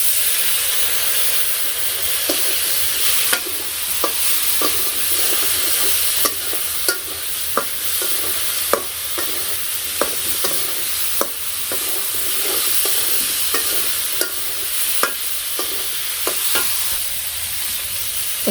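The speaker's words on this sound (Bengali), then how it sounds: "মরিচের ফাঁকি, পাঁচমিশালি ফাঁকি সব দিয়ে ভালো করে কষিয়ে নিই" Spice paste of turmeric, chilli and mixed five-spice powder being stir-fried with a splash of water in a village kitchen, a steady hiss with frequent sharp scraping clicks of the spatula throughout.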